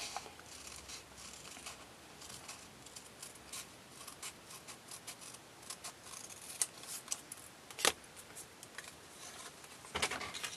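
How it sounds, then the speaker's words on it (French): Scissors cutting paper along a horizon line for a handmade landscape card, a long run of quiet close snipping and rustling strokes with a few sharper louder cuts toward the end, and no voice. "Et je vais juste découper le long de la ligne d'horizon."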